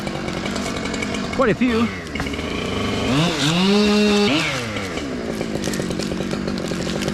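An electric chainsaw runs nearby, its motor whining and revving up and down in pitch, while someone talks over it throughout.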